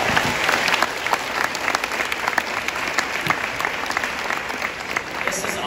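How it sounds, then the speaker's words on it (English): A crowd of new students at a college orientation claps loudly and continuously, a thick wash of applause that holds steady throughout with scattered louder claps rising out of it. "give me a huge round of applause for yourselves."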